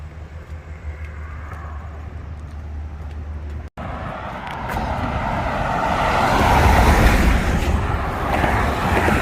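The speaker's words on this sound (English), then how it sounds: "Cars is whizzing right by you. These huge trucks, just like a few feet from me." Cars and huge trucks speeding past a few feet away on a road near the Delaware Water Gap, a steady loud rush of traffic that swells and builds into a close roaring pass toward the end.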